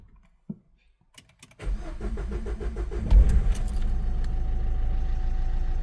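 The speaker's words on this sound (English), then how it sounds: "Now if we start this vehicle up" A car engine starts after a few clicks and key jingles: the starter cranks briefly, the motor catches and settles into a steady, close idle.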